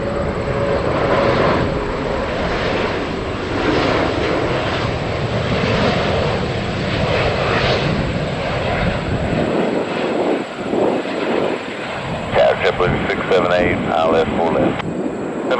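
A jet airliner takes off from runway 4 left at JFK Airport with a loud, steady engine roar that rises and shifts. Air traffic control radio voices talk over it.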